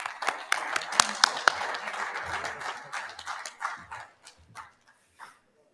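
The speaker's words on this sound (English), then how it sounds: "please give yourselves a round of applause" A crowd at an awards ceremony in Doha claps, starting fairly strong with sharp individual claps, then thinning out to scattered hands and fading to silence within about five seconds; a few voices sound faintly.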